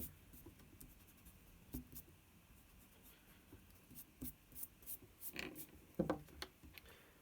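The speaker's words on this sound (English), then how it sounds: "Let's try to erase these." A pencil drawing of Gigantamax Snorlax on paper is rubbed with an eraser, giving faint, soft, scratchy strokes in irregular bursts that grow busier toward the end.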